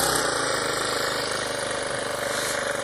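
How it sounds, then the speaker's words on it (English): A Honda rotavator's small engine idles steadily nearby, a continuous close mechanical hum and rattle with a fast regular pulse and no talk over it. "It's got an automatic clutch on it, which means to say it doesn't move forward until you start to rev the engine up."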